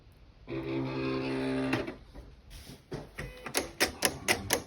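A small vinyl cutting machine whirs steadily while cutting heat transfer vinyl, then gives way to a series of sharp mechanical clicks and clacks that speed up near the end.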